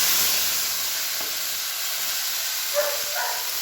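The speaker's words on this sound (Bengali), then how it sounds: "এবার কড়াইয়ে তেল দিয়ে জিরে শুকনো লঙ্কা দিয়ে দিয়েছি" Cumin seeds and dried red chillies sizzle in hot oil in a wok, giving a steady close hiss with no talk. A faint clink sounds near the end.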